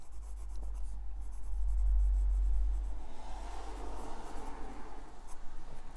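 A black Faber-Castell Fresh fountain pen with a medium nib scratches softly across paper, a faint close-up rubbing that swells and fades under a low background hum, with no voices.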